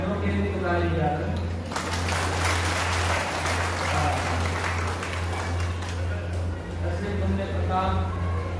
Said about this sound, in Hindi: एक बार हमारे मित्रों के लिए ताली बजाकर